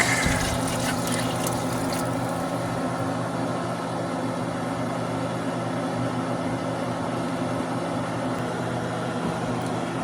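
Broth and milk pour into a soup pot for broccoli cheddar soup, making a steady, fairly loud liquid rush that runs unbroken for the whole stretch, with no talk over it.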